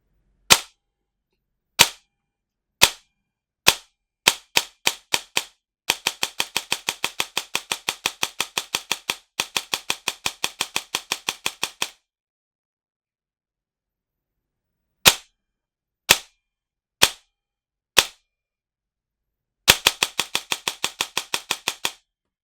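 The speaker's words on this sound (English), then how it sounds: "So let me just fire the gun now." Sharp mechanical clacks from a G&G ARP9 airsoft gun dry firing, first single spaced shots, then long rapid bursts, then a few more singles and a final burst, crisp and close.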